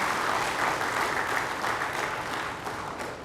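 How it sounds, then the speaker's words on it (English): An audience gives a round of applause at a ceremonial occasion: a continuous, full wash of clapping, fairly loud and even, easing slightly toward the end. "Another round of applause for yourself with a smile on your face this time."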